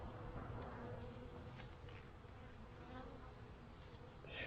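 Honeybees from a small colony buzz faintly but steadily in a dense, continuous drone, with individual insects passing close now and then.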